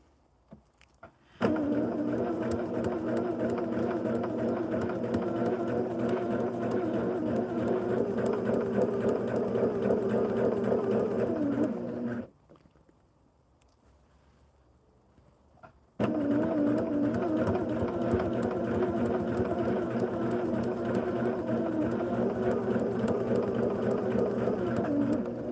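A sewing machine runs steadily while stitching quilt lines, a fast even mechanical whir that stops for a few seconds of near silence before starting up again at the same close, constant pace.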